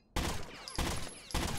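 Three loud gunshot bursts in Rainbow Six Vegas, each a sharp broadband blast with a ringing tail, spaced roughly half a second apart, close and with no talk over them.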